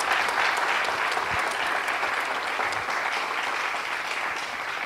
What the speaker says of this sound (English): Can we get a round of applause for our moderator,